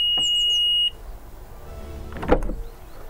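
A short high electronic tone from an Alfa Romeo Giulia Quadrifoglio disarming its alarm sounds for under a second, followed by the car door clicking open and some rustling nearby.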